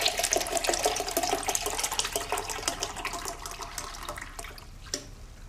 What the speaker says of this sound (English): She pours the juice into a glass jug.